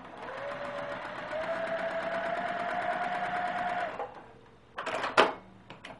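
A sewing machine stitches quilt binding from corner to corner, running at an even hum for about four seconds, then stopping and giving a few short clicks and fabric handling sounds, close up.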